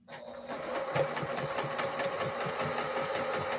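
A sewing machine runs steadily, stitching quilt fabric for a baby quilt, its fast needle clatter forming a continuous close, even whir that starts after a brief moment and holds through to the end.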